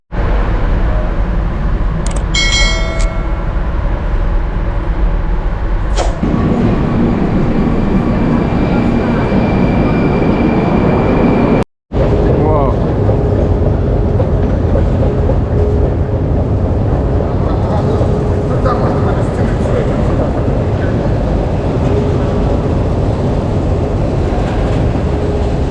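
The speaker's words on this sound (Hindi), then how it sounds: "अभी ट्रेन में हूँ, मॉस्को जा रहा हूँ" A moving train on the way to Moscow rumbles steadily from inside the carriage, a loud continuous low drone with a brief cut partway through and no talking.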